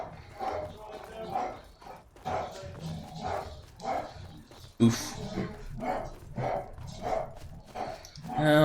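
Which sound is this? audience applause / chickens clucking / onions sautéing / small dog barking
small dog barking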